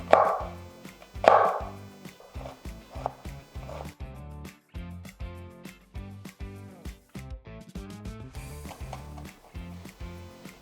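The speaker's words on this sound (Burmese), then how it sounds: "ကြက်သွန်နီလေးကိုကျွန်တော်တို့ပလိမယ်" Red onion being chopped with a knife on a cutting board for a Burmese noodle salad, two loud sharp chops at the start followed by a steady run of lighter rhythmic knife taps over a quiet kitchen background.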